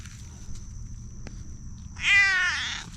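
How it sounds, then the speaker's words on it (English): A cat lets out one short, hoarse, raspy meow near the end, loud and close over a quiet background hum. "You got the craggiest meow."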